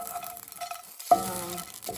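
Pumpkin seeds toasting in a hot cast iron pan make a steady, close sizzle, with stirring scrapes and one brief louder clink partway through.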